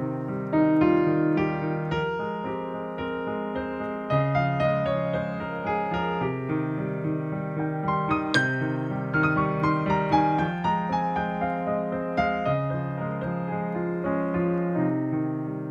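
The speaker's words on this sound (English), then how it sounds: "This is the sound of the Phrygian scale." A pitched instrument steps through the Phrygian scale, a mode with a Middle Eastern flavor, as a steady stream of clear, closely recorded notes that runs at an even moderate pace for about fifteen seconds with no talking.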